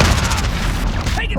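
Molotov cocktail thrown during a Call of Duty: Modern Warfare team deathmatch on the Hovec Sawmill map, a loud, dense boom and burst of fire across the whole moment amid game noise, with voice callouts heard alongside.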